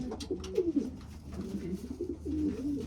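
Racing pigeons in a loft cooing, several soft throaty rolling coos repeating close by, with light rustling between calls.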